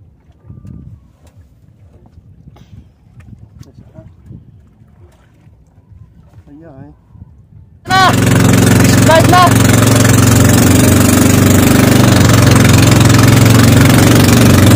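A small fiberglass boat moves on shallow, narrow water. Quiet water and faint voices come first, then the engine starts up and runs loud and steady, a close droning rumble.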